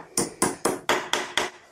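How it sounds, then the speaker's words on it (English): Six sharp metallic hammer taps on a bicycle fork in an even rhythm, close up and crisp, each with a short ringing decay. "Let's give this a little tap with the hammer"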